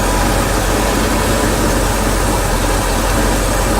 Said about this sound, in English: just after idling for like 45 seconds, it'll start to slow down. It'll get choppy.